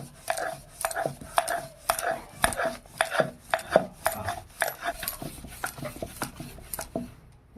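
Rice-flour roti dough rolled out with a rolling pin on a board, producing a steady series of close, rhythmic knocks and soft rolling strokes, roughly two per second.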